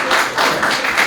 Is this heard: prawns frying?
no